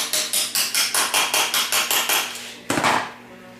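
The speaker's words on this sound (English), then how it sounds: "then you go ahead and just tap your tubes down in there" Light rapid hammer taps seat the tubes into a TH400 automatic transmission case during a rebuild, about thirteen quick, evenly spaced metallic knocks, close up, ending with one louder, heavier strike.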